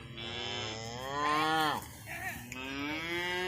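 Cattle being let into a fresh pasture give long, loud, drawn-out moos close by, one call swelling and falling before another begins.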